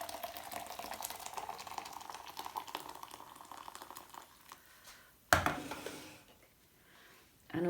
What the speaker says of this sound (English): the kettle's just boiled, so I'm just going to pour this over the soda crystals